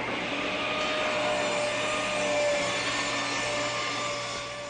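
A woodworking saw runs steadily at close range with the safety guard down, a continuous loud motor whine holding an even pitch throughout, with no one speaking.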